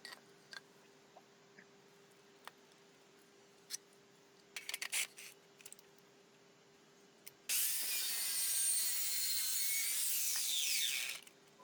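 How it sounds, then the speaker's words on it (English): Hand saw cutting through thick, heavy pine for a folding workbench, a dense rasping burst of strokes in the last four seconds, close and loud, after scattered faint clicks and taps. "I'll just turn the wood around and cut either side to make the cut"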